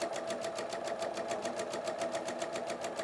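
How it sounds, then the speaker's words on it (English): A sewing machine runs steadily, stitching jelly roll quilt strips together with a quarter-inch guide foot, its rapid even needle rhythm close and continuous with no talking. "I'm at my machine and I'm going to run this strip through."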